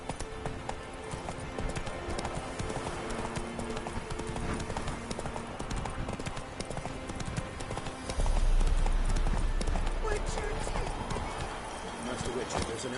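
Horse hooves clip-clopping at a run in The Witcher 3 on PS4, a steady rhythmic gallop with game ambience, growing heavier and louder partway through.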